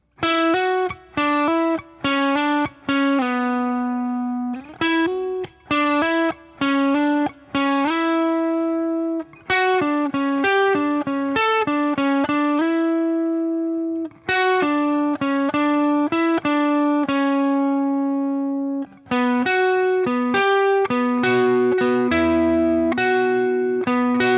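A distorted electric guitar plays the verse lead of a song: quick single notes and bends, with a few brief pauses, loud and close.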